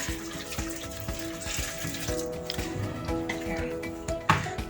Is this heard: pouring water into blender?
yes